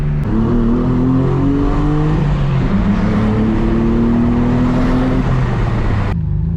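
A 1999 Mitsubishi 3000GT VR4 driving, its engine loud and close as it climbs through the revs, drops on each gear change and climbs again, before cutting off abruptly near the end.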